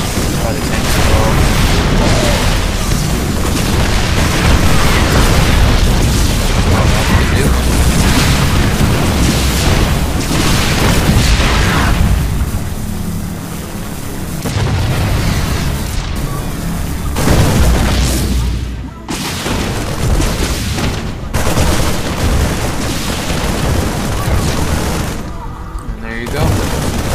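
Siege tanks firing on Protoss units in a StarCraft II match: loud, dense barrages of heavy booms and gunfire that roll on continuously, with brief lulls and a commentator talking over them.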